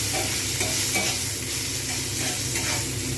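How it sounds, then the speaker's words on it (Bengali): Curry leaves dropped onto softened fried onions in hot oil, giving a loud, dense, continuous sizzle and crackle close up, with no talking. "এবার আমি এর মধ্যে দিয়ে দেবো কারি পাতাগুলো"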